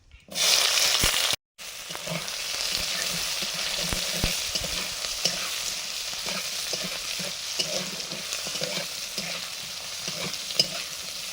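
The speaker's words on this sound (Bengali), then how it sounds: "এবার পেঁয়াজ কুচি দিয়ে দিচ্ছি" Chopped onions fry in hot oil for biryani, a continuous bright sizzle broken by stirring scrapes and clacks of a spoon against the pan, loud and close throughout.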